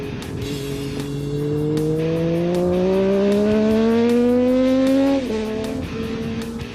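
A Benelli Tornado 898cc three-cylinder motorcycle accelerating hard, its engine note climbing steadily in pitch through the revs before a brief drop at a gear change, loud and close.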